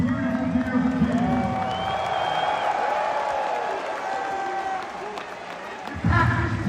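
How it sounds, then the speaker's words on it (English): A concert crowd claps, cheers and whoops in a packed venue, a broad, loud roar of applause with voices calling out and someone speaking over it. "Give yourselves a round of applause, you beautiful, beautiful people."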